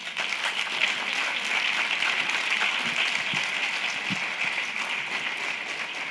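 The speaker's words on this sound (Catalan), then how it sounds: "Penso que es mereixen un aplaudiment." Audience applause for the speakers at a Catalan education conference session in an auditorium: a dense, steady wash of many hands clapping that holds at an even level throughout, with no talking over it.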